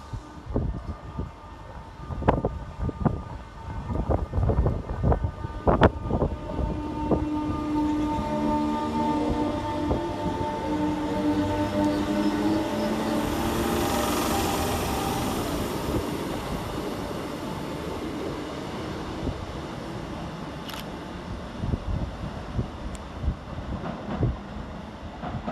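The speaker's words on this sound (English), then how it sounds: "319 370, departing with the 1740 Northern service Wigan Northwestern to Liverpool Lime Street." Class 319 electric train 319370 departs Edge Hill station on a Northern service to Liverpool Lime Street, with clacking wheels over rail joints, a swelling motor whine that fades into the distance, and wind buffeting the microphone.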